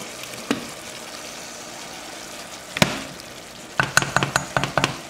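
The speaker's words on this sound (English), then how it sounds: "part of those boiled onions that are too small to stuff, and I will just go and fry them here a little bit" Small boiled onions frying in a pan, a quiet steady sizzle broken by a few sharp knocks and stirring clatters, with a cluster of taps near the end.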